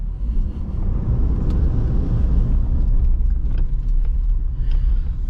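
A pickup truck in four-wheel drive accelerates hard in the rain, its engine a loud, steady low rumble throughout with road and rain noise layered on top.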